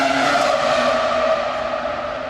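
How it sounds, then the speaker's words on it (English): A Formula 1 car engine in the video game F1 Manager 2022 screams at a sustained high pitch, loud and close, its tone sliding slightly lower as it holds. "it's the greatest sound of a racing car ever"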